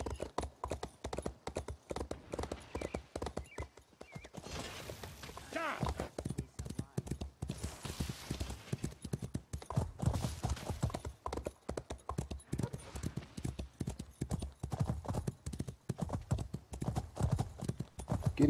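Horse hooves gallop in The Elder Scrolls Online, a rapid, steady clip-clop rhythm running throughout, with someone talking over it at times.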